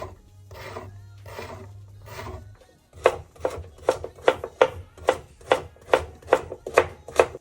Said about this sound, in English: make sure that your object is face down and cut with a rowing movement down the object,